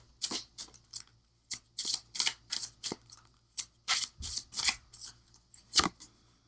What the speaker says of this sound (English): let's just pull an angel card